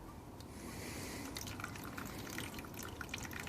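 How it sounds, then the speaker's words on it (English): Water poured from a can onto newly planted tomato seedlings in an organic no-dig allotment garden, a steady close trickle and splash with a few drips, running continuously without talk. "Now I'm watering this"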